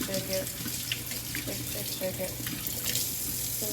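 Rice rinsing in a strainer under a running kitchen tap, steady splashing water with light rattling and shaking of the grains, close and continuous, with faint voices underneath.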